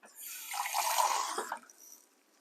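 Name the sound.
cold water running from a tap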